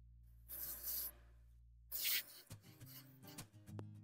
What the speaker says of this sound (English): I'm just spraying a little contact cleaner all over myself and the truck.